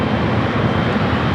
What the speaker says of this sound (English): Philippine Flight 113 heading to Manila, 777 at 300 ER up next for takeoff